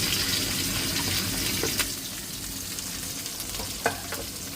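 Small onions and green chillies frying in oil for a home-cooked lunch, a steady sizzle running throughout with a couple of sharp clinks of a utensil stirring the pan.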